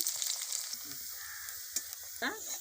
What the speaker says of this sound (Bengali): বেরেস্তাটা করে নেব